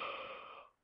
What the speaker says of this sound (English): Okay, sorry, I was yawning.